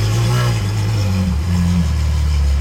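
An Aston Martin Valkyrie engine with its exhaust valves closed, a muffled, loud, close engine note that holds steady, then rises and drops in pitch as it revs, with no talk.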